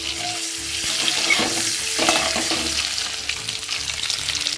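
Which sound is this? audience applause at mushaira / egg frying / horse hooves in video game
egg frying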